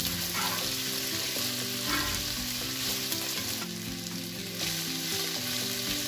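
Chicken chow mein noodles fry in a pan with a dense, continuous sizzle, close and steady, with occasional stirring scrapes mixed in.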